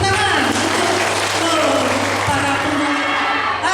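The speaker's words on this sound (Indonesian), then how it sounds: "Tepuk tangan" Applause from the audience at a national women's jamboree fills the clip under a steady low hum, with some crowd noise and voices mixed in.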